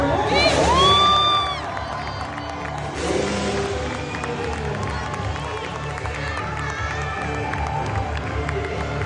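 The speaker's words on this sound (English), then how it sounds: "Please keep that round of applause going." A crowd at a daredevil motorbike stunt show cheers and whoops loudly after a backflip, then settles into steady applause and chatter, with a voice shouting over the top early on.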